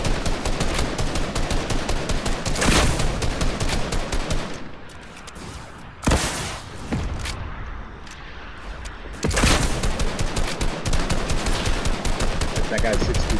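Loud rapid bursts of automatic gunfire from the Fortnite video game crackle almost continuously, easing briefly into a quieter stretch midway before the heavy shooting resumes.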